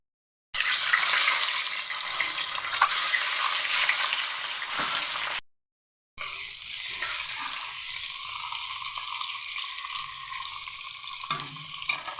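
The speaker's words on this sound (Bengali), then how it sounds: "4টি ডিম ভেজে নেব।" Four eggs fry in mustard oil with a pinch of turmeric in a pan, giving a steady close sizzle that breaks off briefly midway and then resumes more quietly.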